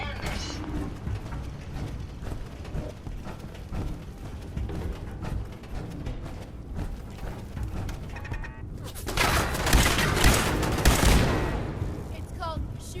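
Rapid bursts of gunfire from a firefight in the video game Fallout 4 crackle steadily under in-game voices, then swell into a loud, dense barrage near the end.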